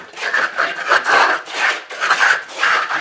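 A trowel skipping drywall mud texture onto a wall, with gritty rasping strokes repeated in a loose rhythm, close and fairly loud, with no talk.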